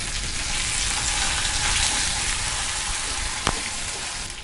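Green chillies, ginger, mint and coriander leaves sauté in hot oil, giving a loud, steady, close sizzle that holds without a break, with one brief click partway through.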